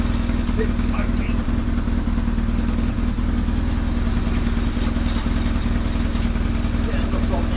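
The engine of a self-built adventure motorcycle runs steadily and loudly, with a loose rattle in its idle, while people talk over it.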